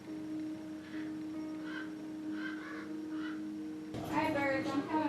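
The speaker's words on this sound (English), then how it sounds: "These crows outside my window are trying to play me." Crows caw outside a window in a few short, repeated calls at moderate distance, with a steady background hum throughout and a person speaking near the end.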